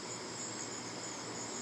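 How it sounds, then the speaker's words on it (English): Steady, dense chorus of crickets chirping outdoors on a morning, a continuous high shimmering trill that stays even and moderately loud throughout with no voices. "all I hear is crickets"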